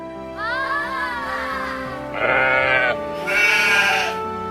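Sheep bleat in a children's cartoon Bible story about Moses tending his flock, several drawn-out, wavering bleats in quick succession, loud and close, with a brighter, higher cry toward the end.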